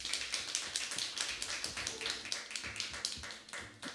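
Dense audience applause at a jazz and poetry concert, following a rapper's performance, with many hands clapping steadily and close together for the full stretch.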